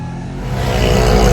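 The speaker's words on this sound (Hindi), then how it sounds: "असां रिक्शा ते वेठा आहियूं।" Auto rickshaw ride home from a Karachi bird market, its engine a steady close rumble that swells slightly louder toward the end, with no talk.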